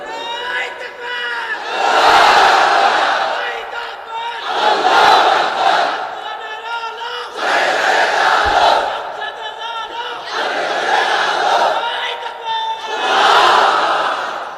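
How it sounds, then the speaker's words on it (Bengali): A large crowd at an Islamic sermon shouts takbir, Allahu Akbar, in loud unison bursts that swell and fade roughly every three seconds, five waves in a row. "তাকবীর পড়েন তো দেখি, আল্লাহর নামে পড়েন, লিল্লাহে তাকবীর।"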